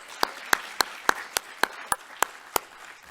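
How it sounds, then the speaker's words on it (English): A few sharp, evenly spaced claps ring out one after another, a slow rhythmic round of applause for a seminar MC, close and fairly crisp with nothing else over it. "John, let me give you an applause."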